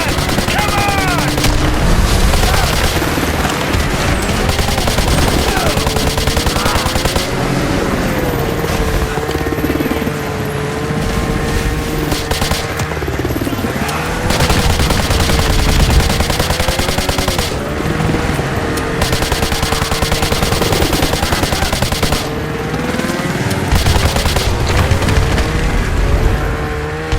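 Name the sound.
gunfire in Call of Duty Modern Warfare 2 video game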